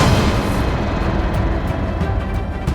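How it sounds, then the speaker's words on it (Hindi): Explosion sound effect, a heavy rumbling blast with deep booming low end rolling on continuously, loud and close, with crackling bursts flickering over the top. "थोड़ी देर बाद वहाँ पे धमाका होने लगा।"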